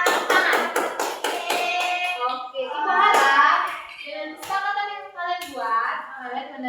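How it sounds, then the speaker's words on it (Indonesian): A class of schoolchildren claps in rhythmic, evenly spaced hand taps up close, then the clapping gives way to children's voices and a teacher talking. "Tepuk tangan untuk kalian semua dulu"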